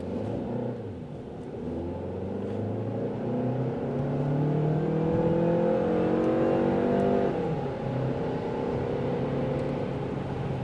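A Jetour X70 Plus SUV in sport mode accelerates with a steady, rising engine drone and road rumble heard from inside the cabin, moderately quiet and continuous without talk.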